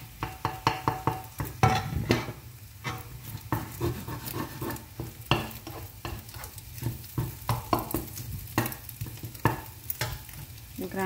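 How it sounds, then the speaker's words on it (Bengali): Leftover rice and vegetables frying in a wok, with a steady sizzle under repeated scraping and clanking strokes of a spatula against the pan, close and continuous. "ততক্ষণ পর্যন্ত এটাকে ভাজবো।"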